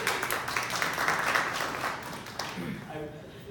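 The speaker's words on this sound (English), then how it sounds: "let's welcome him with a round of applause." Audience applause welcomes a speaker at a university talk, a fairly dense wash of clapping that fades away after a couple of seconds, with a voice beginning to speak at the end.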